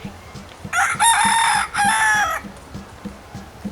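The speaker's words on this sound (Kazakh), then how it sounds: "Таң атқанда әтеш кукареку деп шақырып," A rooster crows one loud, close cock-a-doodle-doo in two bright bursts, with soft rhythmic thumps ticking faintly in the background.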